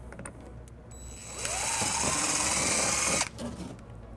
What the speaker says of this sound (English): then we'll drill our first hole